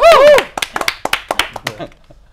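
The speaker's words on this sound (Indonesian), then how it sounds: "Tepuk tangan dong buat Dani Beler." A studio audience at a comedy talk show gives a short round of clapping for a comedian, following a brief vocal sound, with sharp individual claps spaced irregularly and fading quickly.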